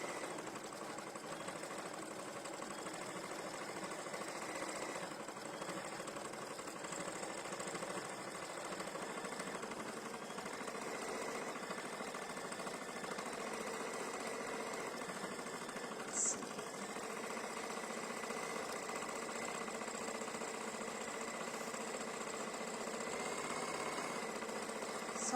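An embroidery machine stitching a design onto a pumpkin place-setting mug rug, a steady, fast mechanical whir and patter running continuously at moderate volume, with no talking.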